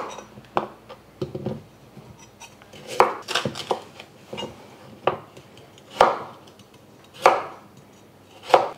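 Knife cutting jumbo carrots into chunky pieces on a cutting board, a series of crisp, separate chops at an uneven, unhurried pace, close and clear with quiet gaps between strokes.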